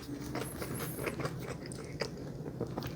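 Close, quiet bites and chewing of crispy chicken shawarma, a string of small crunches and moist mouth sounds over about three seconds, with no talking.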